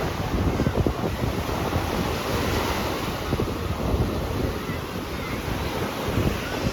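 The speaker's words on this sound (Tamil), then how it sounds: "அங்கே பாருங்க அவ்வளோ பெருசாக அலை வருது" Ocean surf roars steadily nearby at a beach, with big waves washing in amid heavy wind buffeting the microphone.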